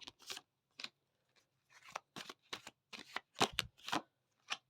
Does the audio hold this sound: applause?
no